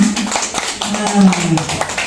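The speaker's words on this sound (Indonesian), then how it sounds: "Tepuk tangannya mana?" An audience claps at an Indonesian Independence Day event in Tegal, a scattered run of hand claps heard close and fairly loud while a voice carries on over them.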